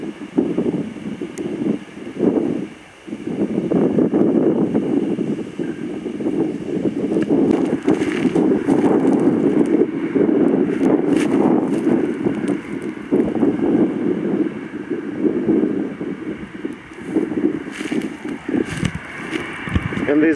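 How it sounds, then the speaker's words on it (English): Strong gusting wind buffets the microphone beside the New England Highway, a loud rushing roar that swells and eases, with someone talking intermittently over it. "Very windy, they're getting blown around in the wind."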